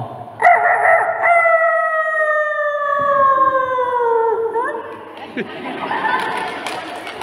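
A storyteller's voice imitates a rooster with one long, drawn-out crow that slowly falls in pitch, followed by a burst of noisy voices from the audience.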